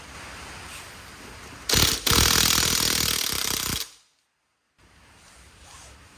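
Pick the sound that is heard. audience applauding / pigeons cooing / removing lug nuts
removing lug nuts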